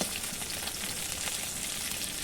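Fish sizzles and crackles steadily in a hot pan of oil, a constant hiss of frying with no voices.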